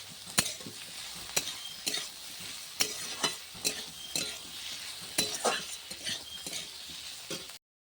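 Chopped tomatoes and torn green chilli fry in a pan for paneer butter masala, a steady sizzle broken by regular sharp scrapes and clinks of a spatula stirring, close and clear.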